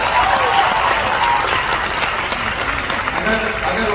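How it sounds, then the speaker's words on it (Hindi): A large crowd at a motivational speaking event in Goa in 2022 breaks into loud, sustained applause, a dense and even wash of clapping that fills the hall from start to finish. "सबसे पहले मैं जोरदार ताली चाहूंगा मेरे great mentor Shri Alpesh Gajjar sir के लि"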